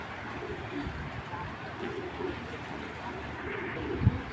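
Dobas racing pigeons, a pair kept for sale in Bangladesh, coo softly and repeatedly at close range under a quiet background hum.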